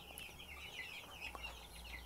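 Young broiler chicks cheeping in a flock of over a hundred, a steady chorus of high, overlapping peeps close by, with no talking.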